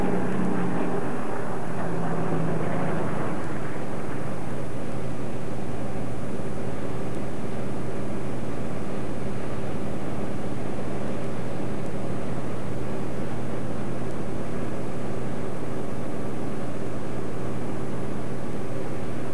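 Fairey Swordfish biplanes fly overhead at a Battle of the Atlantic 50th anniversary event, a loud, steady broadband drone of piston engines that fills the scene without a break.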